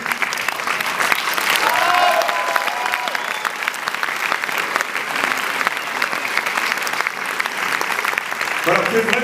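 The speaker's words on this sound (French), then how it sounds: "vous pouvez vraiment les applaudir" A premiere audience at a UGC Les Halles cinema in Paris applauds the film team of "Le Grand Soir" with sustained, dense clapping that fills the room, while voices talk over it.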